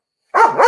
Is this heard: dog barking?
yes